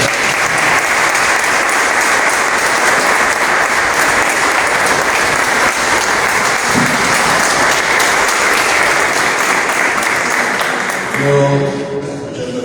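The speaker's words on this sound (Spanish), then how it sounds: "Fuerte aplauso." A large audience at a local-history talk in Empedrado bursts into loud, sustained applause that holds steady for about eleven seconds before quickly dying away.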